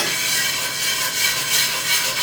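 A whisk scrapes steadily around a cooking pan, stirring a balsamic vinegar pan sauce and lifting the browned bits; a continuous close scratchy rubbing with no talk.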